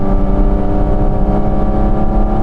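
Steady, loud exhaust drone from a Porsche 911 GT3 with the exhaust set to maximum noise, a low, constant humming tone holding at one pitch throughout with no talk.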